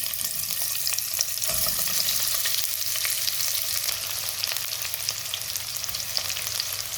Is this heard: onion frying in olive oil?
yes